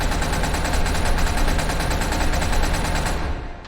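Sustained automatic fire from an E11 rifle in the video game SCP: Secret Laboratory, a loud continuous burst of rapid shots lasting several seconds before cutting off.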